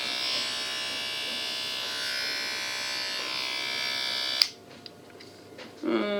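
Battery-powered electric hair clipper or shaver running with a steady, bright buzzing hum, close and continuous, which cuts off abruptly partway through, leaving faint clicks and handling noise.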